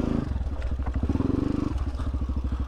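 A TBR7 motorcycle fitted with a performance camshaft and a 17-42 sprocket revs loud and close in a rapid, pulsing chug as its rear wheel spins and scrabbles over rocks.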